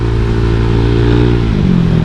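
A motorcycle fitted with a larger engine accelerates hard, its steady low exhaust drone holding close and loud before the pitch shifts as it climbs through the revs.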